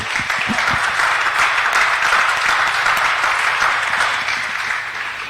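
Church congregation applauding steadily and loudly during a French-language sermon, dense sustained clapping with a few closer, sharper claps, no talk over it.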